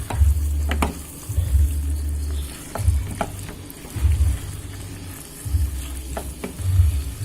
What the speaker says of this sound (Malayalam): ഇനി നമുക്ക് നന്നായിട്ടൊന്ന് വഴറ്റി കൊടുക്കണം